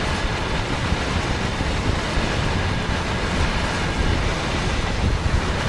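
A long 95-car freight train rolls through Cajon Pass in Train Sim World 3, a dense continuous rumble of wheels and cars with wind-like hiss, steady and close throughout.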